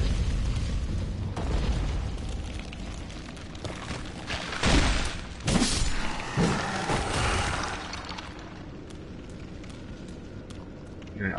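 Bombs go off in Dark Souls III, a few deep, crackling blasts with a fiery burst between heavier thuds, set against ongoing combat noise.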